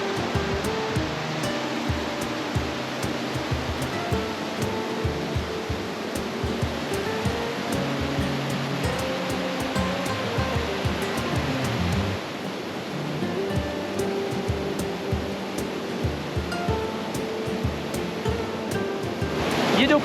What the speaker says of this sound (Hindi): ये जो पानी का शोर होता है,